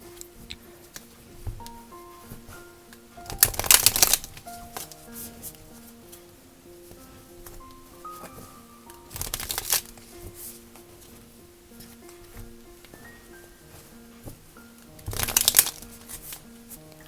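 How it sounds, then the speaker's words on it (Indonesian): Tarot cards riffled and shuffled in three separate bursts of crisp, flapping card noise, with quiet handling and faint soft music between them. "kita shuffling dulu kartunya."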